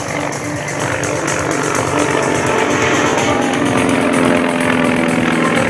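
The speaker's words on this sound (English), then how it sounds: "Now taking to the sky, more of the aircraft of the war in the Pacific. The very rare Dauntless." Rare WWII Dauntless dive bomber at the California Capital Airshow, its piston engine a steady, loud roar that swells slightly and holds throughout, with no voices over it.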